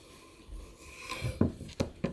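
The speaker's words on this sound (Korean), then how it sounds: "끝을 잘라내고 이렇게 뒤 자르고 이렇게 반으로 이렇게 썰어주세요" A knife cuts a cucumber on a board, trimming the ends and halving it for a bellflower root and cucumber salad: a soft rub followed by three or four close, crisp chopping taps.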